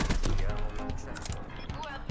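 Video game gunfire from Call of Duty Black Ops 3, a dense run of loud, rapid shots and impacts filling the clip, with game sound effects layered throughout.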